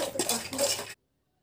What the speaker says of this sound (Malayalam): നമ്മളിങ്ങനെ ഇളക്കിക്കൊണ്ടേ ഇരിക്കണം